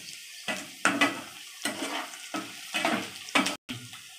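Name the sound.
dried red chillies frying in a pan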